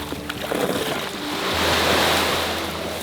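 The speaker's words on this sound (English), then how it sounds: "swell is shoving water over the back, filling the dinghy with water" Ocean swell surges over the back of a small dinghy in a broad, rushing wash of water that swells and recedes, with a low engine-like hum underneath and no speech.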